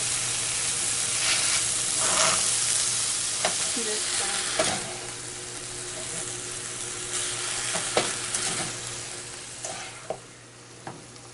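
Ground turkey, one pound, sizzles and crackles steadily while browning in a pan, with occasional scrapes and taps from stirring; close, continuous frying noise with no talking.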